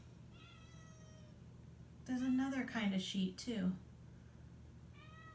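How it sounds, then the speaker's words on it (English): A pet cat in a bedroom gives a couple of loud, drawn-out meows close to the microphone, cutting into a person's quiet indoor talk against a low steady room hum. "Sorry about the cat."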